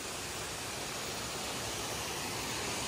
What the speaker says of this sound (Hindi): बहुत बड़े वाटरफॉल है यहाँ पे